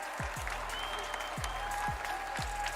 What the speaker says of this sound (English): we got a little bit of round of applause there